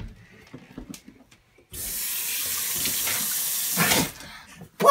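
Water gushes steadily from a tap for a couple of seconds, a loud broad hiss starting abruptly after a few quiet clinks and ending suddenly.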